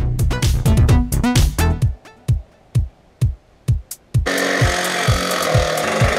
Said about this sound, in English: So now we're just going to go ahead and glue and screw it.